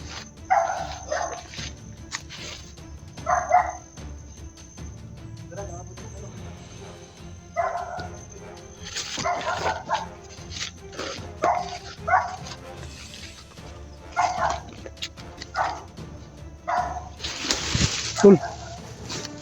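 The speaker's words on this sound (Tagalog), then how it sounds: "Mag-iingat tayo sa aso." Dogs bark repeatedly outdoors in short clustered bursts of sharp woofs, fairly near and loud, spread across a noisy background.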